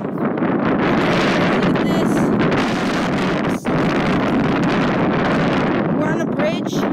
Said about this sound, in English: We're on a bridge. And the wind is probably really bad right now.